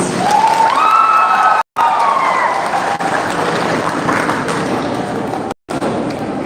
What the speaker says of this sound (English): May we all give a round of applause for our contestants.